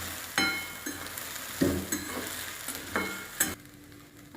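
Okra (bhindi) being stir-fried in a pan for a spicy tiffin bhaji, with soft sizzling and periodic scraping strokes of a spatula, a few light metallic clinks between them, no voices.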